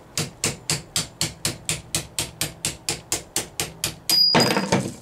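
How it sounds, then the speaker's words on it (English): Hammer blows drive a punch against a Rover P6 V8 rocker shaft, about eighteen sharp metallic strikes in a steady fast rhythm, close and loud, ending in a rougher scraping clatter. "What I really need to do is try and punch that through."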